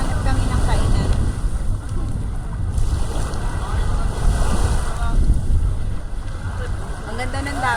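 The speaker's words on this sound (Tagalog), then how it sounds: "Ang ganda ng dagat dito." Ocean waves wash onto a pink-sand beach at Subic Beach in Matnog, Sorsogon, a loud continuous rushing surf with heavy wind buffeting the microphone and swelling pulses around three and five seconds.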